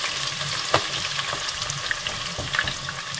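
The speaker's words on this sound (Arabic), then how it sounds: "اول شيء راح اخلي هذا البصل على النار واقليه" Onions fry in about half a cup of oil in a pan, a continuous close sizzle broken by occasional scrapes and knocks as they are stirred.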